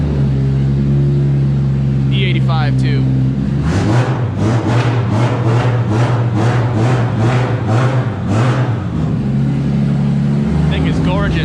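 A car engine with a 2JZ-style exhaust and oval exhaust tip idles, then revs repeatedly through a deep exhaust in rhythmic bursts before settling back to a low rumble, with someone speaking briefly.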